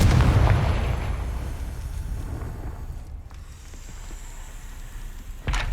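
Confringo fire spell blasting in the video game Hogwarts Legacy, a loud booming burst at the start that rumbles and fades over several seconds, with a sharp second impact near the end.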